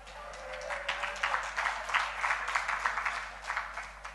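Audience clapping at a household worker awards ceremony, a modest scattered round of hands with uneven bursts that rise and fall, heard from a middle distance.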